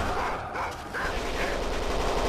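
Dogs bark in the Kane and Lynch 2 video game, a few short barks buried in a dense, loud wash of gunfire and game noise that runs through the whole clip.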